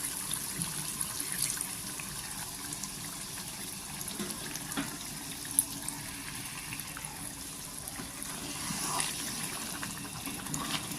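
Spice-washing water is poured into a mutton curry with potatoes, making a steady, close gushing and splashing of liquid that runs continuously at even strength, with no talk.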